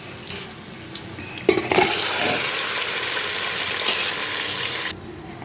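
Meat goes into a pan of half-browned onions with cumin and coriander, and a sudden loud sizzle bursts up and holds steady for several seconds before cutting off, after an earlier quieter frying hiss.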